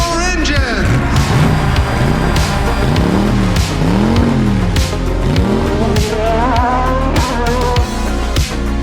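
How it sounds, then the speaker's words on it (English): Several race car engines rev hard and rise and fall in pitch with tire squeals, a loud continuous roar from start to finish with no one talking. "Drivers, start your engine!"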